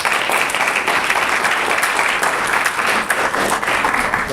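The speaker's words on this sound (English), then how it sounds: "So if we could please give Rick a nice warm welcome." An audience applauds warmly to welcome a speaker at a talk on disabilities and assistive technology, a dense, continuous wash of clapping that stays loud and steady throughout.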